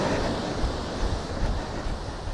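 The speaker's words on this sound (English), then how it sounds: "The waves look small, but they slam the beach and are carving it away." Steady roar of small ocean waves slamming a steep shelved beach on a remote New Zealand coast, continuous broadband wash with gentle surges, fairly close and alone without talk.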